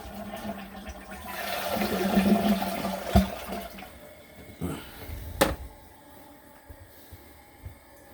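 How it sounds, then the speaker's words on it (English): A Delta toilet flushes after a tank leak repair, a close, loud rush of water that swirls and drains over several seconds, then tapers into quieter refilling with a few sharp knocks. "Flush is nice."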